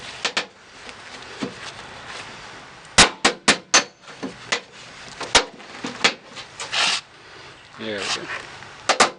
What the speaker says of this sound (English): I'm just trying to get this in the right position and then hammer it